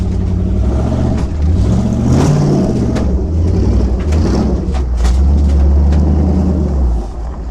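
An LS V8 engine swapped into a 1973 Ford Torino runs and revs, a loud, close, steady rumble that swells and eases across several throttle blips with no talking.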